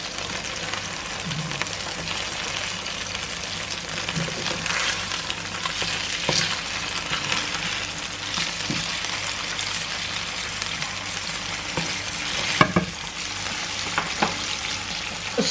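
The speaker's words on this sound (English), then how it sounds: "That's the fish now being turned." Brill fish frying in butter in a pan after being turned, with the hob off: a steady close sizzle and crackle with occasional louder pops, no talking.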